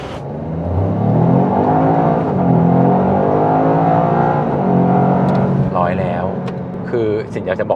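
A Toyota GR Yaris with all-wheel drive set to track mode launches hard. Its engine roars loudly and climbs steadily in pitch as it accelerates, then eases off, and a voice speaks briefly near the end.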